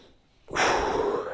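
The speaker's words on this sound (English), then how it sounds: "Big breath in. And exhale." A person taking a big breath in and then a long exhale during a breathing exercise, a quiet inhale followed by a loud, airy rush of breath up close.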